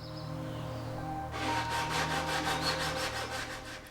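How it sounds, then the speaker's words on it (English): Sandpaper of 120 to 220 grit on a hand sanding block rubs back and forth across a wooden dresser in quick, rhythmic strokes, close and clear, starting after a short quieter stretch. "I'll use various hand sanding blocks with sandpaper ranging from 120 grit to 220 grit"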